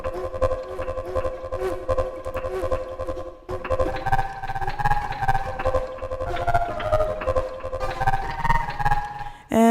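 Granular synth patch built from scratch in the Palindrome granular morph sampler, a dense layered tonal texture with sustained pitched lines and pulsing rhythmic hits, shifting character partway through and continuing steadily loud to the end.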